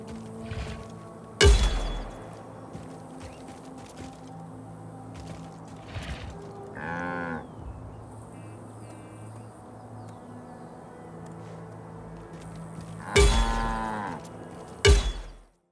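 Cartoonish cow moos from cattle struck by the cow gun in the Just Cause 4 video game, a few short bellowing calls spread out against quiet game ambience, two louder ones near the end.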